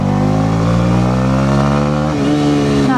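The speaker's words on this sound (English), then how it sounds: "I'm going to twist the throttle right back and see how much power it actually gets." A 2018 Honda CB125R motorcycle engine revs hard as the throttle is twisted, its pitch climbing steadily and loud, close up with no talking.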